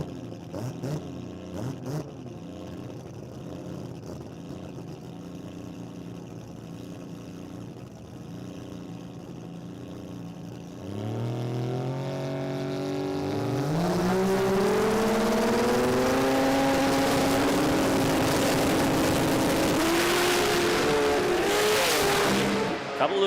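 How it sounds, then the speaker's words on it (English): A race car with a 20B rotary engine idles roughly during qualifying, then revs hard and accelerates, its pitch climbing through rising gear sweeps into a loud sustained roar. "Jay Sadek just revving that 20B before putting it in gear."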